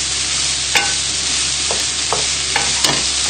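Onions sizzle steadily in a frying pan, a close, even hiss broken by a few soft scrapes and taps as they are stirred, with no talking.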